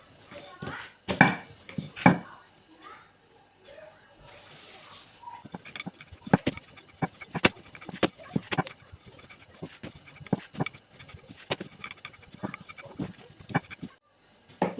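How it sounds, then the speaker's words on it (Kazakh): Dough for baursak (Kazakh fried dough) being rolled out with a light dusting of flour, heard as a series of soft, close knocks and rubbing strokes at an irregular rhythm on a quiet background. "Енді қамырымызды біз жаямыз. Кішкене ұн себе отырып жайып аламыз."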